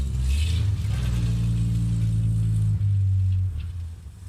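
An old car's original engine, from 1952, idles loudly up close with a deep, steady rumble, briefly stumbling before settling, then revving down and fading at the end.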